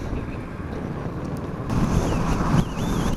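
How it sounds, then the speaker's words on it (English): Wind roaring over a rider on a 2019 Kawasaki Z650 motorcycle at motorway speed, a constant loud buffeting rush across the microphone that grows heavier partway through, with no voices. "You are getting pretty blasted by the wind"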